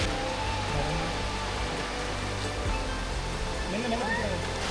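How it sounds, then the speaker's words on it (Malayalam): A waterfall at Vattavada, Kerala, heard as a steady broadband rush of falling water, moderately distant, with faint talk over it. "നമുക്ക് ശ്രദ്ധിച്ച് നോക്കിയാൽ വെള്ളച്ചാട്ടത്തിൻ്റെ സൗണ്ട് ഇതിനകത്ത് കേൾക്കാം"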